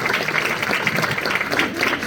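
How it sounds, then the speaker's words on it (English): A room of people at an awards evening applauding, a dense continuous patter of clapping at even loudness throughout the short stretch. "just give yourselves a round of applause"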